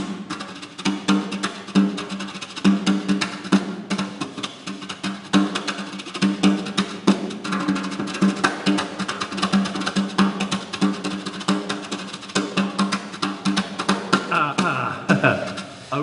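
A drum kit plays a second line beat merged with a swing groove, a steady busy pattern of snare, cymbal and bass drum running continuously and close for the whole stretch.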